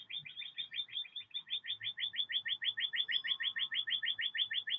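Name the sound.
bird chirping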